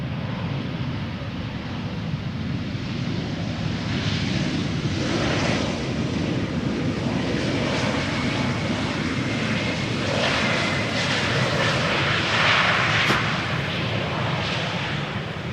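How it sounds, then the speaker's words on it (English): Embraer 190 jet airliner, 15 years old, arriving at Amsterdam Schiphol Airport after a flight from Dublin, its engines a steady, broad roar from start to finish on a sunny day, with no talking. "Quick look at an Embraer 190 arriving from Dublin."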